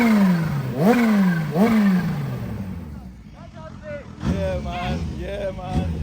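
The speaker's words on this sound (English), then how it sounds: "I want to hear the supercharger." A supercharged Kawasaki Ninja ZH2 revs in sharp, loud bursts nearby, each rising roar followed by a falling whine, with voices talking over the quieter middle stretch.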